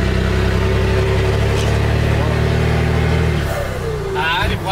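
A truck engine drones loudly and steadily while driving on a highway, a constant low rumble that eases near the end, with people talking over it inside the cab.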